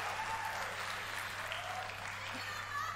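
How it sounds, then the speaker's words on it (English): Steady applause from an audience at E3 2019 for the Avengers game presentation, a continuous wash of clapping that neither builds nor fades, fairly distant and even throughout. "They get the respectful clap."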